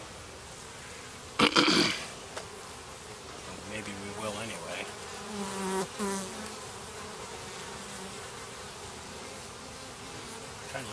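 Honey bees buzz steadily around beehive frames in a foundationless hive, a close, shifting hum, with a brief rustle or bump early on and someone speaking briefly.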